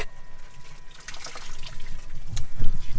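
Water runs from an outdoor shower, a soft continuous splash and trickle that grows louder and heavier toward the end, nearby and with no voices.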